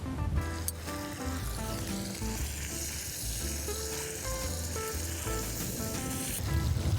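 Food sizzling in a pan set on a campfire while overlanding in Botswana: a constant, close hiss and crackle of frying that carries on steadily throughout, with some low background rumble.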